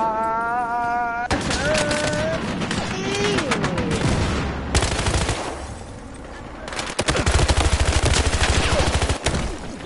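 Rapid gunfire bursts and single shots crack through an online shooter video game match. The bursts are loud and repeat in clusters, with a player talking excitedly over the shooting.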